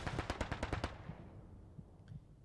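A rapid burst of about eight automatic gunshots close by in the WWII shooter Hell Let Loose, played on the Foy map, then fading to a quiet tail with a faint distant shot.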